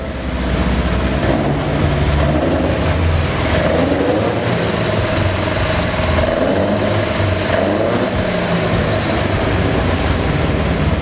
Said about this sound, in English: give us a rev there